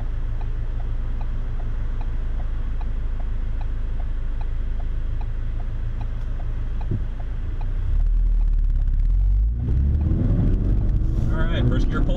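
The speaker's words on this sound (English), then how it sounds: "I have the car in track mode, and the exhaust seems much more barky, and in a good way." Steady low exhaust rumble from a Ford Focus RS hot hatchback in track mode, then a sudden loud surge as it accelerates hard in first gear, roaring up in pitch near the end.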